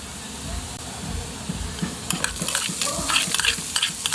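Onions tipped into a hot pan for a chicken hamonado, breaking into a bright frying sizzle that grows louder halfway through, with scattered crackles and stirring scrapes over a low kitchen rumble.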